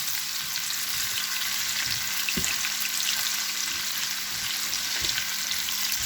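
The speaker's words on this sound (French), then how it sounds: "Donc, on va faire revenir notre oignon à feu moyen." Chopped onion sautéing over medium heat in a pan, a steady close hiss of frying that runs throughout, with a few soft knocks of a utensil against the pan.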